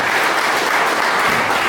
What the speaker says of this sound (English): Applause for all our inductees today